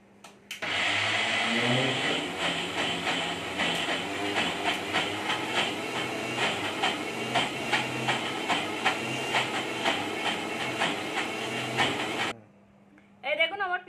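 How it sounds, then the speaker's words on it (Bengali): A grinder chops palak greens with garlic, making a loud, steady whirring roar with rhythmic pulsing for about twelve seconds, then it stops abruptly and a voice speaks briefly. "এই দেখুন, আমি একসাথে পিষে নেবো এটাকে।"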